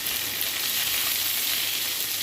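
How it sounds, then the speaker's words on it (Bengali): Snacks fry in hot oil in a pan, giving a steady, close, bright sizzling hiss without pauses or voices. "আমি নাড়ছি"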